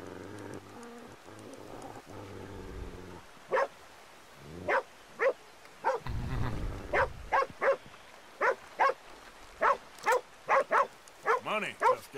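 Repeated dog barks from the Western game Red Dead Redemption 2, a steady run of loud, close barks that comes after a stretch of low rumbling and other background sound.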